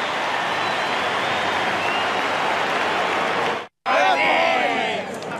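Vast football crowd at the MCG roaring and applauding a Collingwood goal against Carlton in 2011, a loud sustained roar with a brief cut, then the roar resumes under a commentator's voice.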